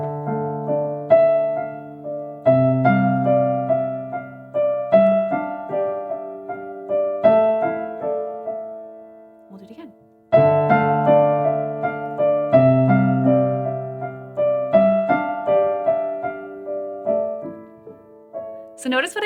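Piano lesson demo of a minor chord progression, the left hand breaking each chord into a root-fifth-root arpeggio under sustained right-hand chords and a short melody, played alone in steady phrases with one brief pause midway.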